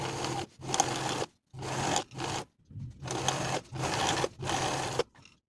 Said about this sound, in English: we're going to understitch, sewing on the pocket right alongside the seam that we just sewed